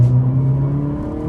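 An Alfa Romeo Giulia 2.0L in normal mode, heard from inside, gives a loud, steady engine drone with a strong low hum that holds for a brief moment as the car accelerates, with no talking over it.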